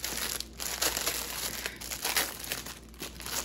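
A plastic Shein mailer package crinkles loudly and continuously as it is handled and opened, with no talking.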